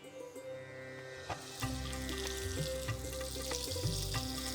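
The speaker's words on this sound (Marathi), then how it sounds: "लसूण थोडासा झाल्याबरोबर आपण त्याच्यामध्ये टाकूया थोडीशी हिरवी मिरची." Garlic and green chili sizzle steadily in hot oil in a pan while cooking restaurant-style crispy corn, with clinks of a utensil stirring close by and no speech.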